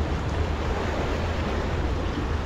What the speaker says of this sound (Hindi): ये है पूरा समंदर